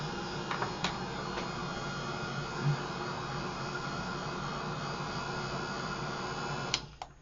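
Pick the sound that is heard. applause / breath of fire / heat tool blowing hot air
heat tool blowing hot air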